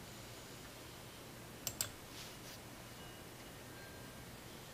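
Two quick computer mouse clicks, close and faint, over a steady background hiss, followed by a soft rustle.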